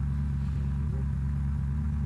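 Car engine in Unturned, a steady low rumbling drone at close range, loud and continuous with no change in pitch.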